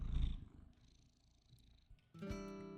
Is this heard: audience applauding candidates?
no